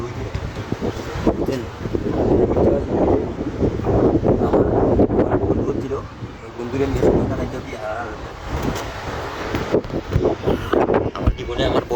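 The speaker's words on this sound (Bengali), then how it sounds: "প্রচণ্ড বাতাস, যেই বাতাসের কোনো তুলনা নাই" Extremely strong wind buffets the microphone in heavy, rumbling gusts during a storm in Bangladesh, while a person talks loudly over the roar.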